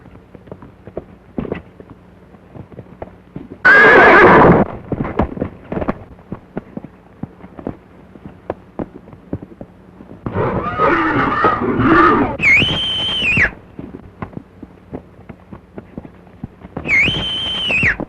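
A horse in a 1934 film soundtrack: light hoof clops tick steadily throughout, with a loud rushing scuffle early on, a busy trampling stretch, and two shrill, drawn-out neighs near the end.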